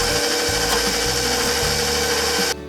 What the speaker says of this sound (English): Mix on low-medium for about 30 seconds until combined.